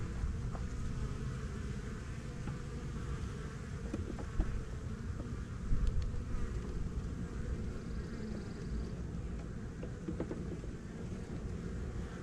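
Small honey bee swarm caught against a fence, a steady dense buzz of many bees fanning close by, continuous and alone without talk.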